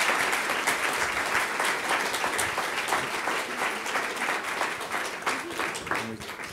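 An audience at a classroom panel discussion applauds to thank the panellists, steady full-room clapping that carries on throughout at a moderate level.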